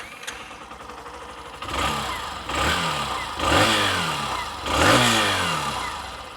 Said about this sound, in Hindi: तो अब इसको अगर एक बार स्टार्ट करते हैं